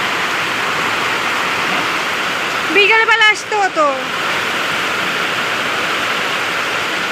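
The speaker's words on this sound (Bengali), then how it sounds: "কি বৃষ্টি" Heavy rain pours down outdoors in a loud, dense, unbroken roar that lasts the whole time, with a voice speaking briefly partway through.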